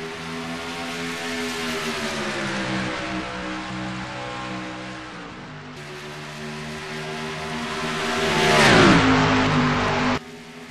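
Race cars roar around Darlington Raceway at the green flag. A loud, sustained engine drone shifts in pitch, then swells as cars sweep close by with a falling whoosh before cutting off.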